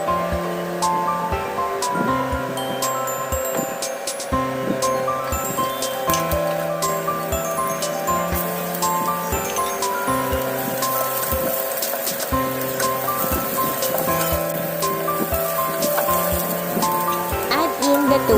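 Garlic and onion sauté in a hot pan for tofu sisig, giving a steady, dense crackling sizzle that continues throughout. A tonal background sound runs softly underneath.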